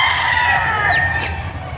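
Chickens cluck steadily nearby on a poultry farm while a rooster crows, its call rising and falling over the flock's busy chatter.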